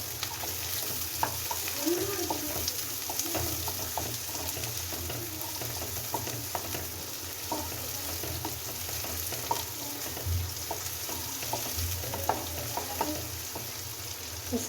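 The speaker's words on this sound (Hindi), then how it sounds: "अब मैं इसमें डाल रही हूँ प्याज।" Onion frying in a pan for a pasta dish with mayonnaise and schezwan chutney, a steady soft sizzle with scattered crackles and light stirring clicks throughout, close and moderately loud, no talking.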